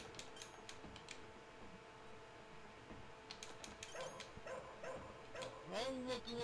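A dog barks and yips in the Rampage arcade video game. Short sharp barks come in bursts over steady game music and mechanical effects, fairly faint, with a few whimpers near the end.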